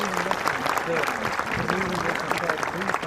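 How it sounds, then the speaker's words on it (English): Applause from an outdoor audience at a Warwick Castle eagle show rises for two bald eagles, steady clapping running beneath a presenter's amplified voice. "Let's give both of the bald eagles a really big round of applause."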